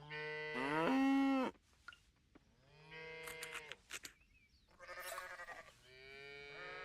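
A farm cow in the video game Coral Island moos three times, long, loud, drawn-out calls separated by short pauses, with no one speaking.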